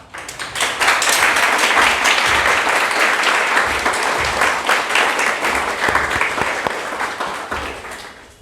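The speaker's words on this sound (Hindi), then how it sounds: "आप तालियां बजा करके स्वागत करें" A room full of people applauding, steady dense clapping that swells in quickly and gradually thins toward the end.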